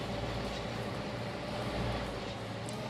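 A train rumbles steadily along a coal-country route in Trainz: A New Era, a continuous loud low roar of rolling wheels and engine with no talking.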